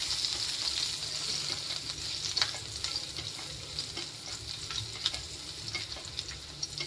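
Garlic and curry leaves sizzle steadily in a hot pan, with scattered clinks and scrapes as the mixture is stirred; no one speaks.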